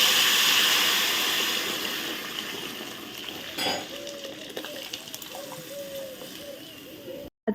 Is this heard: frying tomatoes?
yes